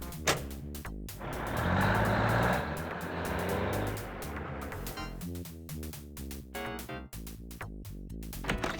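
A truck in the Duckman adventure game backs into position, its engine rumbling loud and near, with a steady growl that swells and then breaks into choppy pulses, and no voices.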